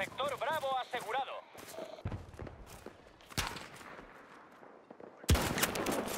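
Gunfire from the video game Battlefield 2042, with sharp isolated shots including a loud final crack, spread among footsteps and other game noise while people talk.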